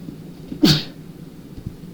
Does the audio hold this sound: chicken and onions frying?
no